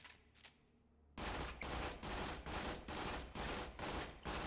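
A Dahl SMG firing in burst mode in Borderlands 2: after a quiet second, loud rapid bursts of automatic fire repeat in a steady rhythm, separated by short gaps, with no talking.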